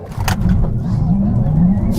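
An electric car launching hard in a drag race, heard from inside as a loud, steady low rumble and whine that holds strong and builds slightly over two seconds, without talk.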